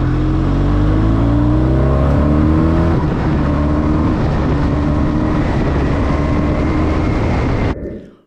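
A BMW R1250 RT motorcycle engine revs hard with rising harmonic sweeps, then a quick drop and renewed acceleration through clutchless quick-shifter gear changes, continuous and close until it cuts off.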